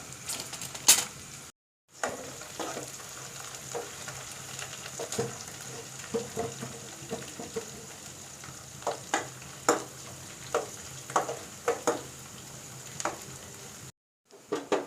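Ginger, garlic and green chillies sautéing in a pan for mango pickle, with a steady sizzle under regular stirring clatters and two brief silent gaps.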